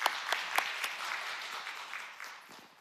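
A church congregation applauding during a Sunday service, a brief scattering of claps with a few distinct sharp hits that fade over a couple of seconds.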